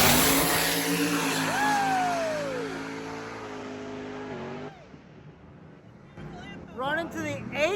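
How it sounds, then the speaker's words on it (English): A turbo LS-swapped Firebird drag car launches hard into a wheelie, engine roaring loud and close then fading as it pulls away down the strip, followed by quieter crowd noise. "let's go do a massive wheelie again"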